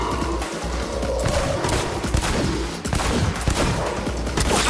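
Gunfire in Cyberpunk 2077, a dense run of loud shots and cracks with small booms mixed in, going on without pause under a steady din of combat.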